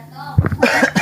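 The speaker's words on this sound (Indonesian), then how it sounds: "Jadi batuk saya." A single short, close cough from a man, sharp and loud, following a brief throaty sound and ending in a raspy burst.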